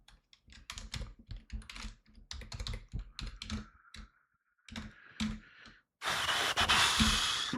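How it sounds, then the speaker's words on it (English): Rapid bursts of clicking keystrokes on a computer keyboard at a live trading desk, uneven and close, pausing briefly, then a rush of broadband noise at the end. "Oh, don't know where I'm typing."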